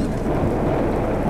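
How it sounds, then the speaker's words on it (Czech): A thunderstorm in the video game Atom Zombie Smasher rumbles as a loud, continuous wash of rain and low thunder, filling the short moment without any speech. "Bouřka nebo co to je, ještě k tomu Bůh se na mě zlobí."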